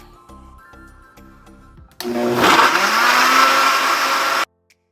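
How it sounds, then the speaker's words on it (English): Blender whirring loud and close as it purees melon with ginger and no added liquid, starting abruptly after some light clicks and handling sounds, running steadily for a couple of seconds, then cutting off sharply. "So now I'm going to blend, and I didn't add anything, just the melon with the ginger."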